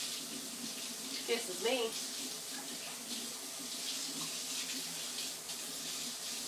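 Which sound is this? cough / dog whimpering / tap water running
tap water running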